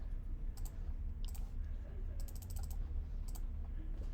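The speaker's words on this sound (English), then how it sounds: "I want my calculator to check. Type it in." Quiet clusters of small plastic key presses come from a calculator keypad being typed on, some in quick runs and some single taps, over a low room hum.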